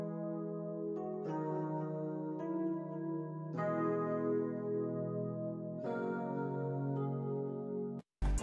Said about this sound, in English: I got Analog Lab e-piano. It's the Great One preset.